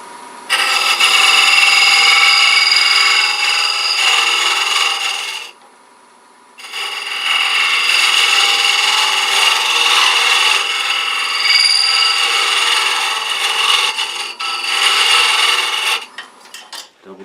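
Wood lathe turning a wooden box while a tool tapers it down, a loud continuous scraping hiss of cutting that stops briefly midway and then resumes before trailing off near the end.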